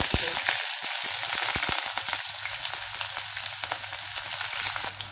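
Whole spices temper in hot oil and ghee for chickpea biryani, crackling and popping in sharp bursts over a steady loud sizzle, close by, with the popping thinning out toward the end.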